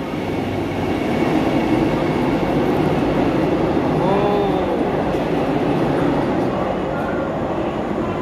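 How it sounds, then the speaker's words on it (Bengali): The Bhubaneswar–Visakhapatnam Vande Bharat express pulls out of platform 1 at Bhubaneswar station with a steady, close rolling rumble and faint wheel squeal that continue throughout. "ভুবনেশ্বর বিশাখাপট্টনম বন্দে ভারত বন্ধুরা 1 নম্বর প্ল্যাটফর্ম থেকে বেরোচ্ছে।"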